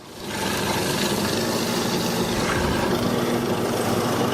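A Holzmann STM4SB mortising machine drives its auger into wood, clearing the gaps between mortises, with a steady, loud motor drone that starts abruptly and runs on unbroken, with no talking.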